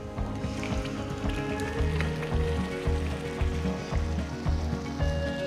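Loud, continuous sizzling and crackling from hot oil as gongura dal is poured into the tempering, with a steady frying hiss throughout and no speech.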